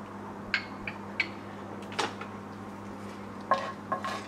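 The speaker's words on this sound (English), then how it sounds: "I think already the cumin seeds have started spluttering" Cumin seeds, cinnamon stick, clove, star anise and cardamom splutter in hot oil, giving a handful of sharp, scattered pops and crackles over a low steady background, close and fairly quiet.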